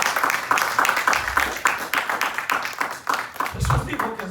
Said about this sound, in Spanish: Dale una ofrenda de palmas al Señor aunque lo tenga que hacer